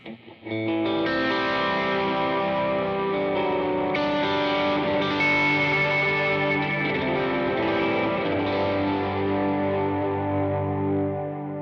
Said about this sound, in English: if I click on a little bit of reverb here